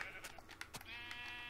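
A Minecraft sheep on the Xbox 360 Edition gives a short, quavering bleat, quiet and alone against low background hiss.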